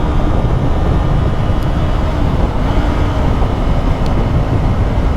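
A KTM RC8 motorcycle, around 2012, riding off, heard as a loud, steady engine roar with broadband road noise throughout and no talking.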